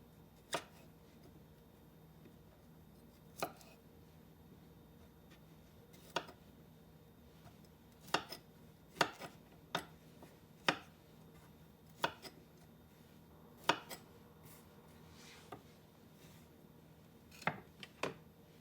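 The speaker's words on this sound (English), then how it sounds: "We're going to cut up our little pieces of cauliflower." A knife chopping cauliflower into small pieces on a cutting board, with sharp isolated taps at irregular intervals, some in quick clusters, close and fairly quiet with no talk.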